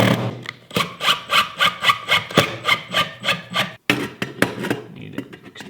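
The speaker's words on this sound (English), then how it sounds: "I do a self-tapping drywall screw instead. It'll go right into the aluminum" A self-tapping drywall screw is driven into aluminum on a homemade hockey-rink ice resurfacer, giving close, rhythmic grinding pulses about three per second, with one brief pause and a few scattered clicks near the end.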